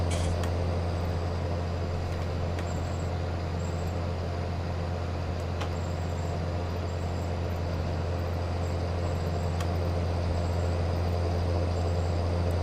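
A John Deere 7810 tractor engine in Farming Simulator 19 runs at a steady, continuous drone with a strong low hum and faint mechanical clicks, close and alone, holding an even level throughout.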